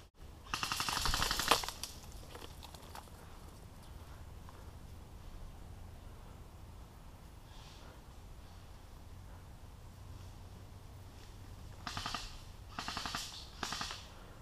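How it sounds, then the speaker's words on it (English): Rapid bursts of distant paintball gunfire crackle at the start and again near the end, with quiet outdoor ambience in between. "I guess you'll kind of hear the gunfire here."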